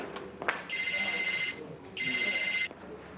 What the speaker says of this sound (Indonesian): Guys, bentar ada telepon,